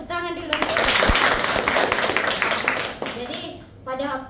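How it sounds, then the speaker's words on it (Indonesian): A class bursts into applause for a student, a dense wash of clapping that fills several seconds, with a teacher's voice speaking before and after it. "Ya, tepuk tangan dulu."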